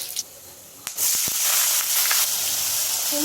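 Onions going into hot oil already seasoned with bay leaf and whole garam masala after potatoes were fried, setting off a sudden loud hiss and sputter that settles into a steady, close sizzle.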